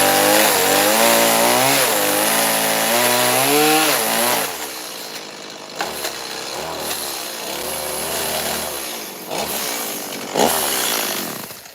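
A chainsaw carves a wooden bear meant to hang off a corner of a shanty, its engine roaring loud and close with a rising, wavering whine before dropping to a lower, rougher idle and cutting sounds.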